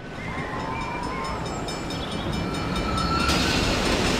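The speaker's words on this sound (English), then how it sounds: "And then it looks like the train can just come off the track and go over the top of you." Mine train from a Planet Coaster theme park rushing past overhead, a steady rolling rumble with faint high squeals and a louder surge of broadband rush toward the end.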